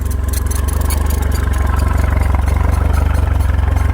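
A Honda 130 hp leisure boat engine runs at idle after starter motor work, giving a loud, even, rapidly pulsing rumble with light mechanical clatter.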